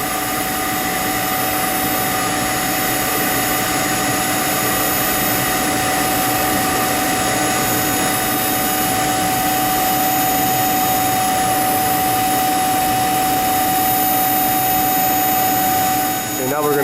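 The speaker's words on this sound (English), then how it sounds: "No load on this currently. It was just going to go into an idle mode." A power generation unit at a mechanical facility idles with no load, giving a loud, steady engine drone with a constant whine that runs unbroken and close throughout.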